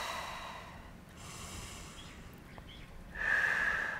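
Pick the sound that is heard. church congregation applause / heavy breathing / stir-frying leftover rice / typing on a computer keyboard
heavy breathing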